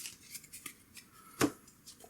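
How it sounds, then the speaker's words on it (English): A deck of game cards being shuffled, a quiet series of light papery riffles and flicks with one sharper snap near the end. "I'm going to have to shuffle this deck up, which I will"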